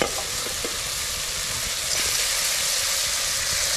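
Crabs sizzle in a hot pan over an open cooking fire in the forest, giving a loud, continuous hiss and crackle with occasional scraping from stirring.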